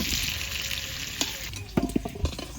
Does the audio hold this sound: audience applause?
no